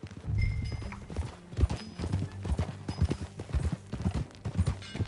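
Horse hooves clip-clop in an uneven, steady rhythm at close range, loud and unaccompanied by talk.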